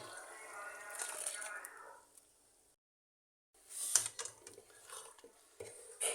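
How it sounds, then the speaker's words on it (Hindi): Onion and tomato paste being stirred into a cooking pot for bull tail qurma, with close, scraping, squishy strokes of a spoon against the metal that break off for a brief silent pause, then resume in short, uneven bursts. "अब इसको अच्छी तरह मिक्स करेंगे"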